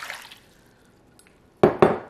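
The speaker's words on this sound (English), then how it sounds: "Adding in 2 cups of water here." Water poured into a crock pot, heard as two quick, close splashes near the end after a near-silent kitchen lull.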